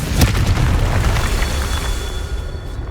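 A Confringo spell explosion in Hogwarts Legacy, one loud booming blast at the start that rumbles on and slowly fades, with no talking.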